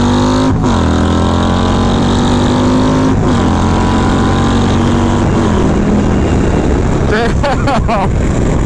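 A Harley-Davidson motorcycle with a 2.2 liter engine accelerates hard up to its speed limiter, a loud, close engine roar climbing in pitch with a few gear shifts, under heavy wind rush, as a rider speaks briefly.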